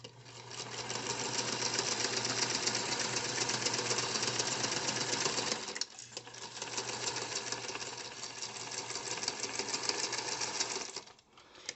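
A sewing machine stitching a crossbody purse runs at a steady, fast mechanical chatter, loud and close, with a brief pause midway before stitching resumes, then stops.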